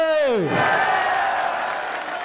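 Large political rally crowd at an Imran Khan jalsa, applause and roaring noise swelling loud and steady after a falling sung or shouted voice tone at the start, a dense wash of many hands and voices.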